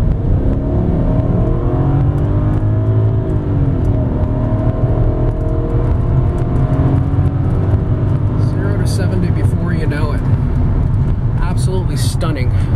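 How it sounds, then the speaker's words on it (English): A 2002 Audi A6 4.2 Quattro AWD sport sedan pulling hard from a stop, loud engine drone heard from inside the cabin, rising steadily in pitch as it accelerates, with a few faint clicks near the end. "We'll go ahead and make a right on this road and go for a nice pull here."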